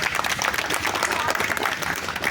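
An audience applauds steadily throughout, a dense, even wash of many hands clapping with faint voices underneath.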